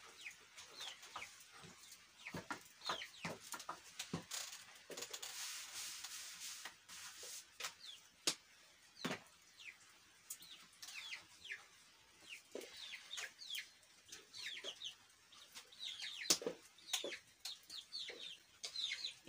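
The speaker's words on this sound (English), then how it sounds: "our chicks stay inside this kitchen, but they are inside their poultry house" Chicks inside a small poultry house in a village kitchen cluck and peep continuously with many short overlapping calls, close and fairly quiet, with occasional sharper chirps and no talking.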